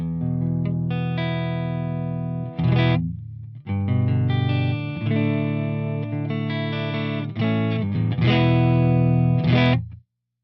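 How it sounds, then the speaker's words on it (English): A bright, clear electric guitar through a Charlie Christian pickup plays sustained chords and single notes, close and fairly loud, with brief pauses between phrases. "So like, seriously, listen to this Charlie Christian pickup."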